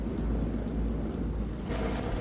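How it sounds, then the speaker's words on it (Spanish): Storm ambience from the video game Man of Medan: a steady low rumble of wind and rain with a broad roll of thunder swelling near the end, heard alone at moderate loudness. "Averigua cuánto durará la tormenta."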